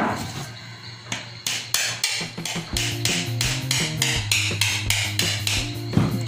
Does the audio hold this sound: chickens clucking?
no